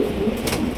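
A large giribaz high-flyer pigeon coos softly in short low murmurs, close by, with faint background noise and no voices.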